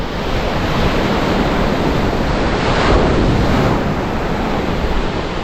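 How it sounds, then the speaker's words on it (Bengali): Ocean waves wash up on a deserted beach on Swaraj Dweep in the Andaman Islands in a loud, steady roar, swelling gently in the middle, with wind buffeting the microphone. "পায়ের নিচে এসে ঢেউগুলো আসছে"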